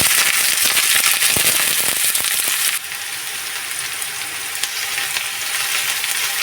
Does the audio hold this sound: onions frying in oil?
yes